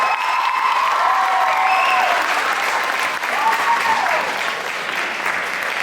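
A high school audience at a hypnosis show claps loudly and continuously, with scattered whoops and cheers rising above the steady wall of applause.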